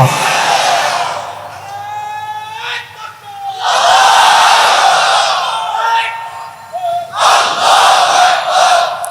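A large crowd at an outdoor Islamic religious gathering loudly chants the slogan La ilaha in repeated, surging bursts, with the voices rising and falling together between short lulls.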